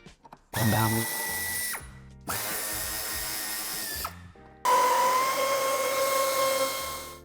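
A power tool removing nuts from the tow bar mounting of a 2016-on Mercedes-Benz E-Class S213 Estate, three loud close bursts of whirring with short pauses between, the last burst rising in pitch.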